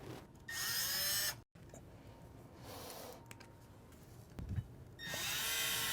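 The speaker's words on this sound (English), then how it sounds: "with the 2 provided screws, we're going to loosely fasten this." A power drill drives screws to fasten a bifold door bracket, two loud close whirring bursts with whining pitch at the start and end, separated by quieter handling sounds.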